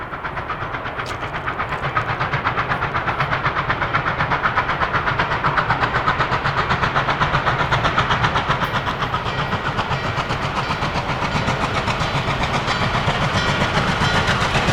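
N&W 611 steam excursion train passes close by, a steady loud roar of rail noise with hissing steam and rhythmic clickety-clack of wheels running throughout, no voices.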